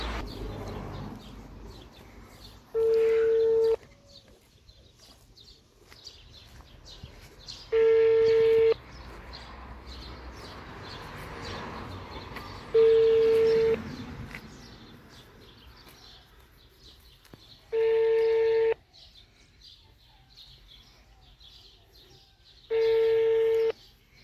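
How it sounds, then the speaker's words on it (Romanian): An unanswered phone line rings back five times. Each long, steady tone comes roughly every five seconds over a faint, murmuring background, and nobody picks up. "Și la telefon nu răspunde."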